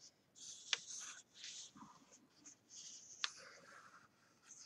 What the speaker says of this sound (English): Lovely dry marker sound.